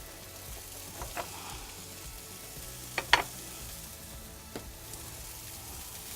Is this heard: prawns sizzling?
yes